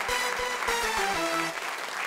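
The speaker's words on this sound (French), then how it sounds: "Applaudissements déjà." Studio audience applause on a French talk show, a steady wash of clapping throughout, with music tones and a beat running alongside it.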